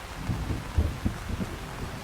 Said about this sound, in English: Despite the roaring thunder and flashing lightning behind him